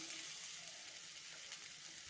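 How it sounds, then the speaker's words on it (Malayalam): Grated coconut dry-roasting in a pan for a Kerala fish curry masala, a soft continuous sizzle and faint rustle of stirring, quiet and even throughout with no talk. "ആദ്യം നമുക്ക് അരപ്പിനുള്ള തേങ്ങ വറുത്തെടുക്കാം"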